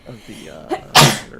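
Right after a few spoken words, one sharp, loud sneeze bursts out close to the mic and then trails off quickly.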